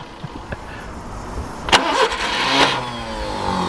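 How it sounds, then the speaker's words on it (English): A Subaru Brumby ute's starter motor cranks the engine in short bursts outdoors, a whirring grind that swells for a couple of seconds and fades with a low mechanical hum beneath, no voices. "That starter motor is driving me mental."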